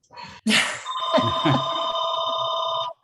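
A telephone rings during a weekly Rotary Club meeting, a loud steady electronic ring that starts about a second in and keeps going to the end, after a brief burst of room noise.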